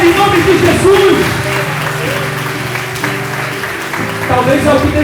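Church congregation clapping in a strong round of applause to the Lord during a Portuguese-language worship service, steady dense clapping throughout with voices and a preacher's speech mixed in.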